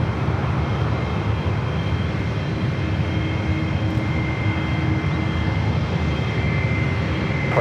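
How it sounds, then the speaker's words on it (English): Virgin Boeing 787-9 Dreamliner arriving from London Heathrow at San Francisco airport, a steady broad roar of jet engines with a faint whine, continuous and fairly distant. "Next up for Arrival, Virgin, coming in from London Heathrow, and the 787-9 Dreamliner"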